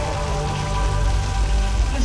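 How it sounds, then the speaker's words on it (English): Artificial rain from overhead sprinklers pours down on a studio backlot in a continuous hiss with a low rumbling undertone, even and unbroken, no voices. "As you can see, it's raining."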